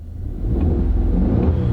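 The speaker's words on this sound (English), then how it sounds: "They all make that particular sound because they're a boxer engine." A Subaru Wilderness boxer engine runs with a low, steady rumble that rises slightly partway through, close and alone.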